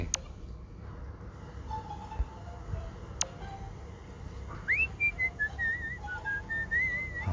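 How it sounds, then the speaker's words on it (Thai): A character in the Stickman prison escape video game whistles a casual tune, a clear melodic line of sliding and held notes that comes in halfway through over a low background hum. "ผิวปากมาสบายใจเลย"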